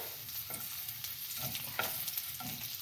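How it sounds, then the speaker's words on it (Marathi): Pomfret fish coated with chilli and salt sizzles in a pan, a close steady frying crackle broken by periodic soft scrapes as it is turned. "आणि आता परतून घ्यायचं"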